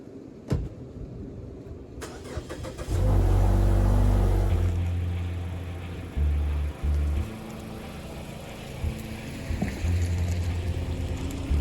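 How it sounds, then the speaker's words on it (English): A Mazda CX-5 fitted with new PowerStop rear pads and rotors drives through a neighborhood for brake break-in, giving a steady close engine and road rumble that swells and eases, with a few dull knocks and no talking. "the next thing we need to do is take for a drive and do the break-in process"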